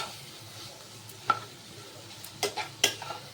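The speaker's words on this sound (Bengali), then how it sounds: "এবার এটা সবটা একসঙ্গে নেড়ে নিচ্ছি" Taro stolon curry sweetened with jaggery is stirred together in a pan, giving a soft low sizzle under a few distinct clinks and scrapes of a spoon against the pan, close and fairly quiet, with no voices.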